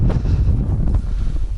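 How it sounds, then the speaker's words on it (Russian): Strong wind buffets the microphone out on a frozen lake during ice fishing in a blizzard, a loud, gusty low roar that fluctuates over a brief moment. "Фух, ветрище."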